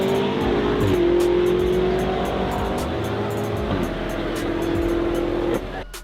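A tuned 800-horsepower BMW M5 races a Lexus RC F, a loud sustained engine howl holding a steady pitch with a brief gear-change dip, close and continuous until it drops away at the end.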